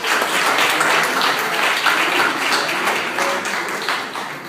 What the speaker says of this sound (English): please give a round of applause to him and all of his efforts